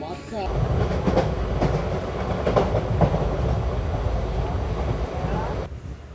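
Guntur-Rayagada Express passenger train running toward Bobbili Junction, a steady loud rumble of wheels and carriage noise with faint rhythmic clatter, heard from onboard, fading slightly near the end.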